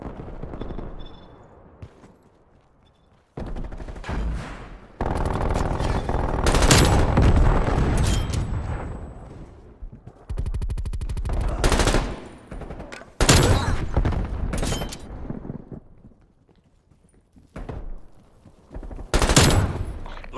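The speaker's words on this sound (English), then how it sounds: "Hostile sentry turret active." A hostile sentry turret in a video game fires loud sustained bursts of rapid automatic gunfire, several long volleys separated by brief lulls.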